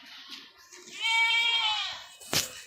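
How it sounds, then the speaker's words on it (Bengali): A goat at a livestock market in Bangladesh lets out one long, loud, wavering bleat up close, with quieter background murmur before it and a sharp knock right after. "আর ওই পাশে একটা দেখছি সুন্দর ছাগল পাঠি"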